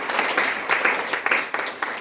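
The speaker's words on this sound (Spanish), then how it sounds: "¿Cuántos le dan un aplauso de alabanza al Santo de Israel?" A church congregation gives a round of praise applause, a moderate wash of clapping with distinct individual claps standing out over about two seconds.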